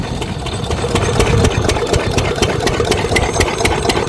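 A loud engine powering an irrigation pump for rice paddy fields in Punjab runs steadily nearby, its even chugging thump holding constant throughout without pause or speech.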